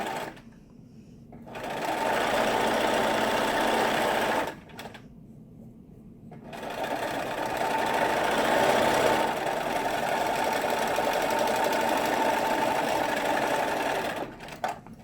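A sewing machine stitches a cloth diaper cover in two long steady runs of rapid mechanical whirring, each lasting several seconds. The runs are separated by short pauses, and no one speaks.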